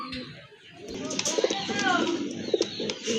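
A pair of white Kagji pigeons coos in soft, low bursts up close, with a few sharper rhythmic pulses and some chirps alongside a voice speaking.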